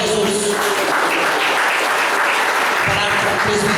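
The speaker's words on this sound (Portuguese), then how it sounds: "Uma salva de palmas para Jesus." A church congregation applauds for Jesus, dense, loud and sustained clapping from many hands filling the room evenly throughout, with no gaps.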